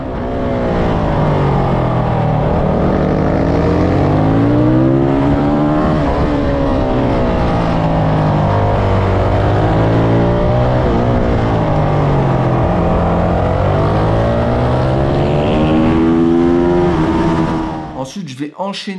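Supermoto motorcycles riding a supermoto track, their engines droning loud and steady with rising and falling revs through the corners for most of the stretch before cutting off near the end.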